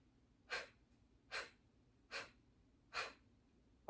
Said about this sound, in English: We'll go for 5 exhales. And 5 jerky exhales.